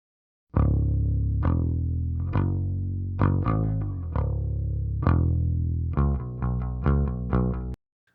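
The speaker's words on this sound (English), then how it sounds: "Let's hear the amp on its own." A P bass plays alone through an Ampeg SVT amp, a steady series of sustained, distorted notes with a thick low tone and a faster run near the end.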